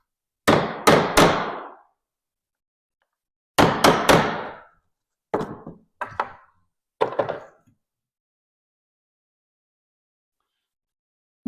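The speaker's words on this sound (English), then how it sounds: "I think what I'm going to do is just take a punch and a hammer and just try to knock these out." Hammer striking a punch to knock nails out of old pallet wood, in five separate bursts of two or three sharp, loud knocks with short pauses between.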